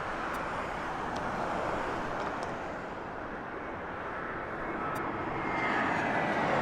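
American Airlines jet at Harry Reid International Airport in Las Vegas, a steady broadband engine roar that holds fairly constant and swells slightly toward the end, heard from a distance with no voices.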